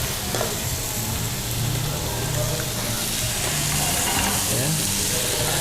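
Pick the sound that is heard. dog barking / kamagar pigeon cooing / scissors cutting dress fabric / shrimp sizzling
shrimp sizzling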